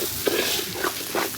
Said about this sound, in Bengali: খুসনি দিয়ে এটাকে লাড়া হচ্ছে